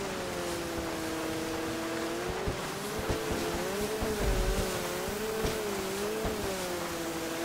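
Race cars in a GTA 5 Online race drone past with steady engine whine and wavering tones, punctuated by intermittent tire squeals and skids at moderate distance.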